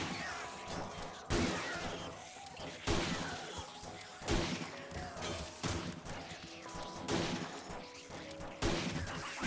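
Repeated bursts of gunfire blast out every second or so in the video game 7 Days to Die while zombies are shot down, each shot a sharp crack with a short rumbling tail.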